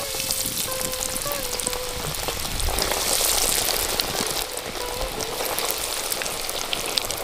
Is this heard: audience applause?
no